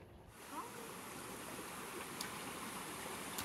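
A creek flows in a steady, soft rush of water, faint and continuous with no voices, on a hot afternoon outdoors.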